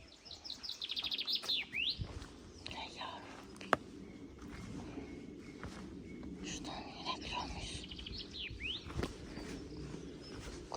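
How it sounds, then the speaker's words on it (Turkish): Birds chirp and tweet in quick repeated calls over a rustling outdoor background in Swiss countryside, with soft voices murmuring now and then. "kuşlar birbirlerine haber veriyorlar bence."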